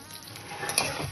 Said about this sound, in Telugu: కొంచెం నూనె వేసుకొని ఇలా పల్లీలు, నువ్వుల పప్పు వేయించుకుందాం.